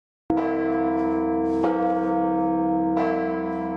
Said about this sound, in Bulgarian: В Крушево камбаните от трите църкви звънят.